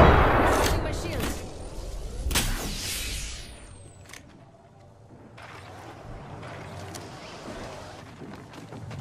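Gunfire in Apex Legends on PS4: a few loud scattered shots and booms early on, then a quieter stretch with distant shooting, with a voice talking over the action.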